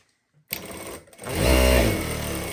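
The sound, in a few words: Jack A5E computerized industrial sewing machine sewing with automatic bar tack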